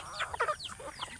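Backyard chickens raised for meat, with several hens clucking and calling close by in short, overlapping bursts and no talk.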